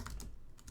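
Quick keystrokes on a computer keyboard while entering a name and email into a web form, a few close, crisp clicks in a brief burst with no voices.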